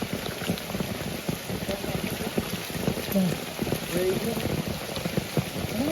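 A downpour of heavy monsoon rain at a crab-catching spot, steady loud hiss of drops pattering on surfaces nearby, with a low rumbling undertone rising and falling throughout.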